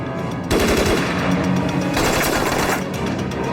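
Sten submachine gun firing in a Chinese war drama battle scene, loud sustained automatic bursts of rapid gunfire, near and dense, with no speech.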